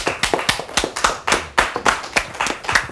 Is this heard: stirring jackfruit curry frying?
no